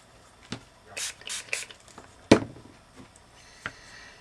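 Several short hissing bursts of spray onto a craft project, a quick cluster of three followed by a sharper spritz and a couple of lighter ones, close and fairly quiet.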